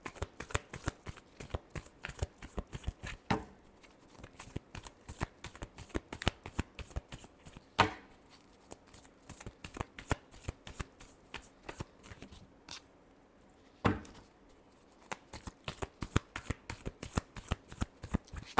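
Tarot cards shuffled by hand, a close, steady riffle of quick papery flicks for nearly twenty seconds with brief pauses and a few louder slaps, no talk.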